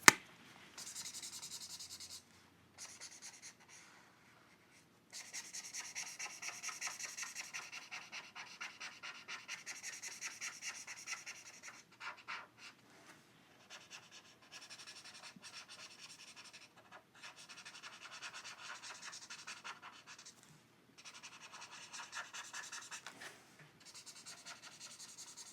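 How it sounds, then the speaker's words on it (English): A brush nib marker colours across paper with steady, close rubbing and scratching strokes in repeated bursts, broken by short pauses. "It really is nice to colour using a brush nib."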